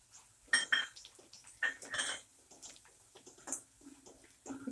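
A spoon clinks and scrapes against a pan while black masala and onion-garlic masala are mixed for misal, a few sharp metallic taps and soft scrapes, close and fairly quiet with no voices.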